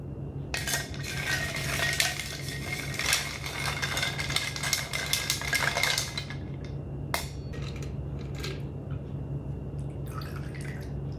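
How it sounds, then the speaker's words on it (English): Stirring a Manhattan cocktail makes a rapid, continuous clinking and rattling for about six seconds, then a few scattered clinks before it goes quiet. The sound is close and moderately loud, with no speech. "Time for the stirry stir."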